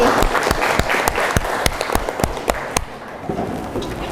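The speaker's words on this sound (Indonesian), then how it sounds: "Tepuk tangan untuk Dami Lestari." Classroom applause: sharp, evenly spaced claps ring out in a steady rhythm over a background of light crowd clapping, then thin out near the end.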